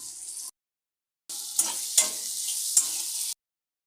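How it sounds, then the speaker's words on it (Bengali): Potatoes and peas stirred in a hot pan with kalonji and turmeric, a bright close sizzle with a few sharp scrape accents, cut by a silent gap near the start. "এখন আলু মটরশুঁটিটা দিয়ে দেবো। আগে একটু নাড়াচাড়া দেবো"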